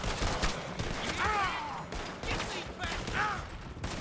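Gunfire in Red Dead Redemption 2 comes as a dense, continuous stretch of overlapping shots and blasts, loud and close, with voices talking over it.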